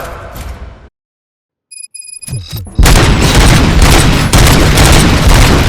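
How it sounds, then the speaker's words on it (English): Gunfire erupts in the video game RoboCop: Rogue City after a short silence, a loud dense barrage of booming shots and bursts that fills the rest of the clip. "Gunshots? What's going on?"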